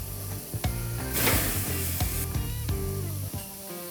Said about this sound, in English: let's put it on the grill. As you can see, our grill is extremely hot